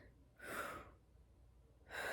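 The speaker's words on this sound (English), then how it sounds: "I'm going to take a deep breath." Two deep inhalations during a French horn breathing lesson, each a close, airy rushing intake lasting under a second, separated by a quiet pause.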